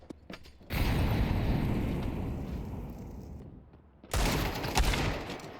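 Pistol fire in a Counter-Strike match on the Nuke map sounds as loud rapid bursts of shots, one long volley, a short pause, then another barrage close up with no talking.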